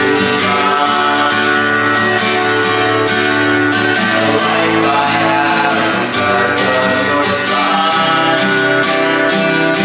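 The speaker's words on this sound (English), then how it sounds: "we're just going to do slow down strums" Slow acoustic guitar down strums build steadily in volume, each stroke landing at an even, unhurried pace under a person singing worship lyrics.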